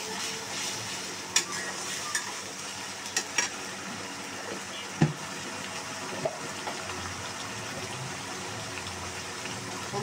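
Spices sizzle and crackle in hot oil while being stirred in a pan for a river fish curry with eggplant. A soft continuous fry is broken by a few sharp clinks of the spoon against the pan.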